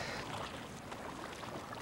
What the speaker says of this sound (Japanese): 8ヶ月ぶりの、カヤックです。